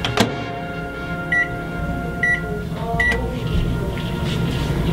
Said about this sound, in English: Next, put your Eggo s'more into the microwave for 30 seconds.